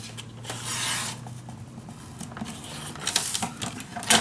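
Paper being cut for a handmade mini album: scratchy slicing and rustling strokes in a few short bursts, close and moderately quiet, over a low steady hum.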